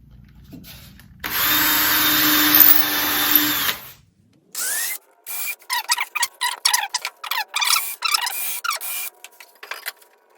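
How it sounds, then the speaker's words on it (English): A power drill bores pilot holes deeper into wood for a planter box, one long steady whir of about three seconds, then a quick run of short, sharp drill bursts close by. "So now I'll just use the drill and put them in deeper."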